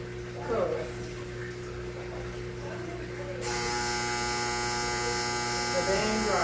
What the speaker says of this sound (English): Got the dryer on.